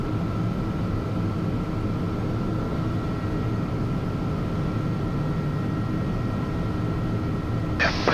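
A small aircraft engine holds a steady, loud drone as it is run up to 1900 RPM for takeoff, its even roar continuous throughout with no voices.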